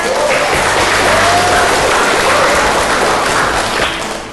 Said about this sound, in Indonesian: tepuk tangan buat Marlina.